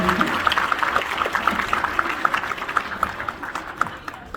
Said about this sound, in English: one more big round of applause for my friend Winter